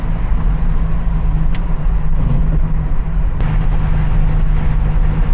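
A 1971 Plymouth Cuda with a custom 440 engine cruising on the road, a loud, steady low engine drone with road noise, continuous and close from inside the car.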